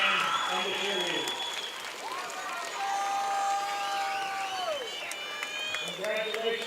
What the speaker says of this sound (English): Would everybody please join me in one final round of applause for this year's homecoming royalty, the ROTC, the KHS band, and the cheerleaders.